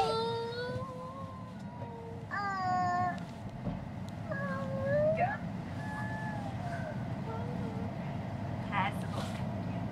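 A cat meows repeatedly inside a Tesla Performance Model 3 on a family road trip, its high wavering cries rising over steady low road rumble and cabin noise, with people talking now and then.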